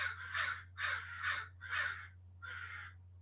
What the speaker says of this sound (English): You got a crow.